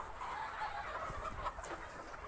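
Chickens and roosters in a poultry shed cluck and murmur in a steady, continuous din, with several birds calling at once close by and no talk over them.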